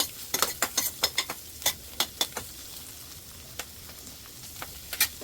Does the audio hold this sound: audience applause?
no